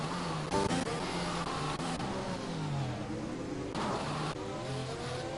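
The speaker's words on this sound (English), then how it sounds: "Car number 13 cruising away." Car 13's race car engine at Monaco, a steady loud whine that shifts pitch through gear changes as it pulls away, with other engines layered underneath.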